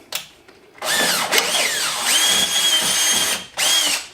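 A power drill bores out holes in soft metal on a Yamaha Rhino bumper bracket during a winch install, whining loudly and close up in bursts that rise in pitch as the motor spins up, with short pauses between.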